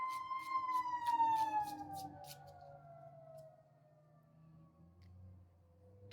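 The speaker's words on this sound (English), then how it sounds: "Uh-oh, there goes an ambulance." An ambulance siren sweeps past outdoors, its wailing tone sliding steadily lower in pitch as it moves away and fades into a low traffic rumble.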